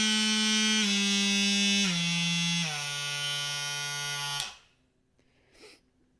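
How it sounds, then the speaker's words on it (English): Skil 12v oscillating multi-tool buzzing steadily, its whine dropping in pitch in distinct steps as the speed is turned down, then switching off into near silence with a faint rustle afterward. "So I'm going to turn on again, and then I'll go through the steps as I turn it back down."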